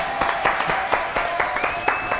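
A small audience claps for a singer, a thin run of distinct hand claps in irregular rhythm with a faint whistle-like tone running through it.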